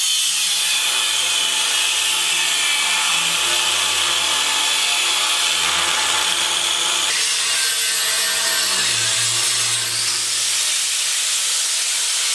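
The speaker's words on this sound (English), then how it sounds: "It's a twisted or braided wire wheel." A twisted braided wire wheel grinds rust off an F250 truck frame, a loud, steady abrasive hiss and rasp with a high whine that holds for the whole stretch with only slight shifts in pitch.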